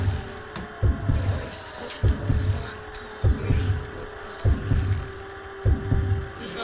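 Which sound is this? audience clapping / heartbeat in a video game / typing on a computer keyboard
heartbeat in a video game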